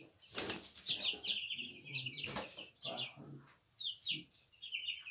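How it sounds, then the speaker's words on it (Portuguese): Young farm-raised broiler chickens, about two to three weeks old, chirp and peep in a busy close-up chorus on a small poultry farm, mixed with wing flutters and rustling. "Esse aqui é os frangos de granja, né?"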